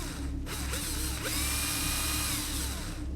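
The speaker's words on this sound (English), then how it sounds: "Then I hear the sound of a drill." A power drill whines continuously with rising and falling pitch and a ratcheting buzz, loud and close, with no voices.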